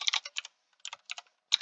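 Brisk typing of code on a computer keyboard, close and clear, in short clusters of keystrokes separated by brief pauses.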